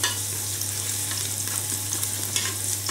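Vegetables sizzle and are stirred in hot scented oil in a pan, a steady close frying hiss with scraping stirs and no talk.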